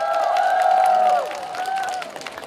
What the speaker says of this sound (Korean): 다시 한번 뜨거운 박수 보내주시기 바랍니다